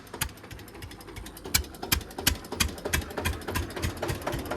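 A tractor engine runs nearby with a steady, rapid mechanical knocking and rattle that stays fairly even throughout, with no speech over it.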